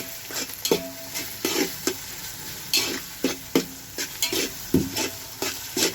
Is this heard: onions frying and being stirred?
yes